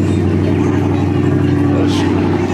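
A lowrider Daytona's engine idling at an outdoor car show, a steady low rumble held throughout with crowd chatter around it.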